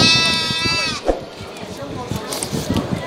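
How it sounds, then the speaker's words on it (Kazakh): Czech-breed goats bleat at a Kazakh livestock market, a drawn-out cry opening the clip, then a shorter call, with market chatter and voices throughout. "Екі чех породалы ешкісі."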